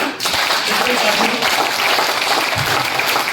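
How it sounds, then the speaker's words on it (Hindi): Loud, dense applause from an event audience at a Goa celebration gathering, a steady wash of many hands clapping close by that fills the whole stretch without letting up. "एक बार अपने लिए जोरदार तालियां"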